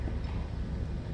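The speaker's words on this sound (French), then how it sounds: "C'est un bateau de plaisance." A pleasure boat passes on a lake, its engine a steady, low, broadband rumble that stays even and fairly close throughout the short moment.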